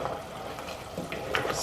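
Sweet and sour sauce boiling in a pan in a home kitchen, a soft continuous bubbling with small popping sizzles and a few brighter crackles near the end.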